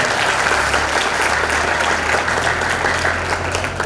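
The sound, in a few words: audience applause for Jha Saheb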